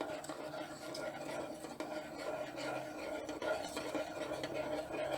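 Ground rice batter mixed with lukewarm water for appam, stirred steadily in a bowl, producing faint continuous rubbing and scraping at close range with no voices.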